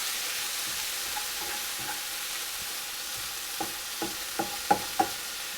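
Brussels sprouts stirred in a hot pan with the heat just switched off, a soft continuous sizzle under a few sharp scraping clicks of the utensil against the pan that get louder toward the end.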